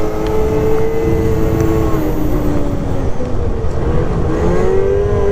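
A hot rod engine drones loudly and steadily as it cruises a snowy mountain road, its pitch gliding up and down with the throttle, and no one speaks over it.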